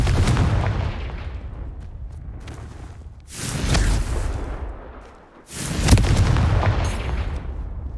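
Confringo blasting spells in the game Hogwarts Legacy go off as heavy booming explosions, one after another in bursts with rumbling decay between them, loud and close.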